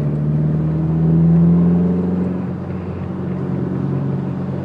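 A Mitsubishi Lancer Evolution with nearly 193,000 miles on it drives along, its engine a steady low drone from inside the car that rises slightly in pitch, then eases off.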